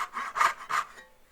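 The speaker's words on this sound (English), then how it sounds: "you need to have a really light touch when you put your saw in the kerf" A hand saw cuts dovetails in wood in three close, rhythmic rasping strokes, then falls quiet.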